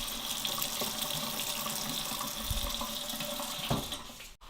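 Kitchen tap running steadily in an apartment, feeding water through a purifier and softener; a continuous close hiss of flowing water that cuts off abruptly at the end.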